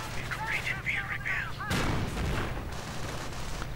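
Gunfire from an Ostwind anti-aircraft tank in Company of Heroes, a sharp burst of bangs near 1.7 seconds that rings on over game noise and earlier chirping effects.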